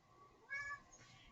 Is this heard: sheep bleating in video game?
no